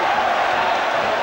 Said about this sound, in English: And listen to the crowd in it.